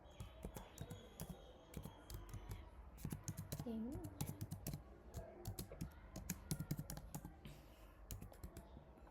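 Code being typed on a computer keyboard, with rapid, close, continuous key clicks in uneven bursts and a voice speaking over them at times.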